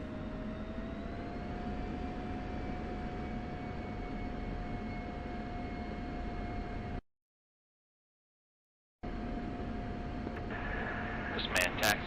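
Fixed-wing military aircraft taxiing on a runway in the flight simulator DCS World, Persian Gulf map: steady engine whine and low rumble with a rising tone, broken by a gap of silence, then the engine noise resumes.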